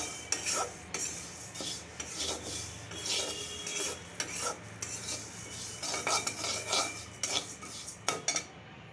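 Mung dal dry-roasting in an oil-free pan, heard as a steady gritty rasp of lentils scraped and stirred, with repeated scraping strokes close by and no talking.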